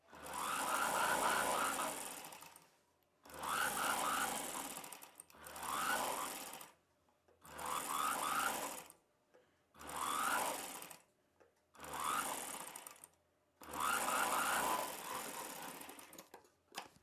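A sewing machine stitches a double-folded fabric cross piece for an umbrella dress neckline, running in seven loud bursts of steady whirring, each lasting one to two seconds, with short quiet pauses between them and no talking.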